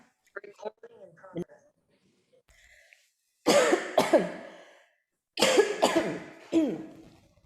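Two loud bursts of harsh coughing, each a quick cluster of hacks, come after some brief speech in a quiet room during a church sermon.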